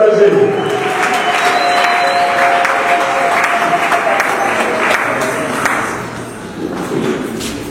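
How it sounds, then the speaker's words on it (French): A church congregation applauds loudly for an evangelist, a full wash of clapping with some cheering and thumps over a sustained tone, easing slightly toward the end. "Quand il se lève, vous allez encore très fort applaudir pour l'encourager"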